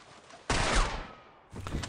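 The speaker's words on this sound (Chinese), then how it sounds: "这个在拔枪之后不使用瞄准的话，可以进行这样的快速射击。" Rapid pistol gunfire in the video game Red Dead Redemption 2, fired quickly from the hip after drawing, a burst of loud overlapping shots followed by another brief volley.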